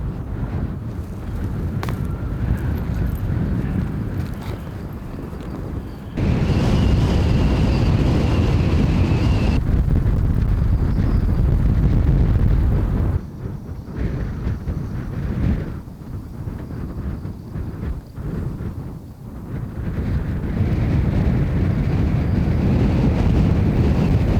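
Strong wind blowing steadily across open ice, a loud, continuous rushing roar buffeting the microphone, with gusts swelling and easing and no one speaking.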